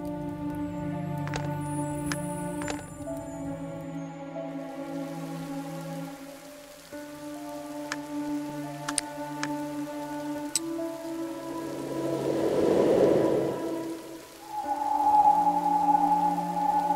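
Steady rain in an adventure game, a soft continuous patter running through the whole stretch alongside sustained tonal background music, swelling briefly louder near the end.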